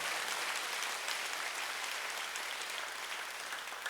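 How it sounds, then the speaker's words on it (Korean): Church congregation giving warm applause to a visiting professor, with sustained, even clapping from many hands heard at a distance and fairly quiet throughout. "우리 교수님께 뜨거운 감사의 박수 부탁합니다"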